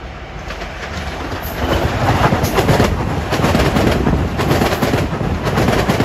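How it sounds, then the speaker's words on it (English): A Long Island Rail Road train bound from Atlantic Terminal to Hempstead approaches and rolls through Elmont station, its loud rumble building up close with rhythmic wheel clatter and sharp clanks, no voices present. "And here comes 754 at 342, Atlantic Terminal to Hempstead."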